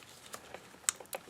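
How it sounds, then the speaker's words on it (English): Electrical connectors on an Audi V6 snapping together during a valve cover gasket job, a few faint, sharp plastic clicks spaced irregularly over quiet background. "Line up the connectors. Click, click,"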